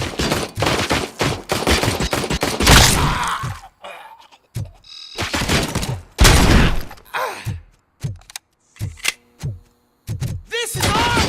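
Gunfire in the Robocop video game, dense bursts of rapid shots and heavy impacts broken by short gaps, loud and close, with occasional game sounds between volleys.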